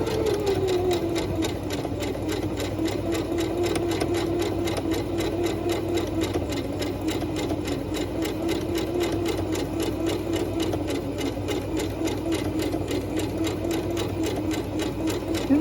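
A sewing machine runs continuously at high thread tension, stitching a ruffle with a fast, even mechanical whir and rapid needle ticking, close and steady, with no talk over it.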